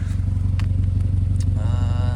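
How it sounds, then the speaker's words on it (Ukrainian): A Seat Ibiza FR hatchback with a 1.4 TSI 150 hp engine and aftermarket exhaust idles with a steady, deep, slightly booming exhaust drone, close and continuous, with faint clicks over it. "от автомобіль у нас працює, вихлоп такий трішки бубанящий"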